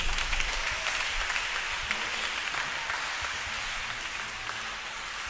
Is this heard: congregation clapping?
yes